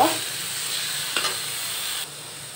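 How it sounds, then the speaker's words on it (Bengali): Shrimp frying with pointed gourd peels and coriander leaves in a pan gives a loud, steady sizzle with a brief stirring scrape midway, ending abruptly. "আমি এই পর্যায়ে পটলের খোসাগুলো দিয়ে দিচ্ছি। আর কিছু বেঁচে ছিল আমার ফ্রিজে, ধনের পাতা আমি দিয়ে দিচ্ছি। দিয়ে আমি এটা একটু ভালোভাবে ভেজে নিব।"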